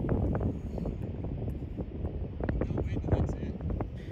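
Strong gusting wind on the Pacific Dunes golf course buffets the microphone with a steady low roar, and a voice is partly heard under it.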